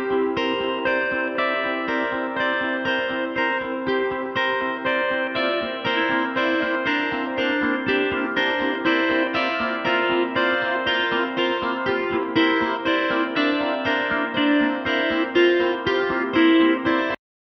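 Doubled rhythm guitar parts run through a Line 6 Helix, steady strummed chords with effects sustaining evenly for the whole stretch before cutting off abruptly at the end.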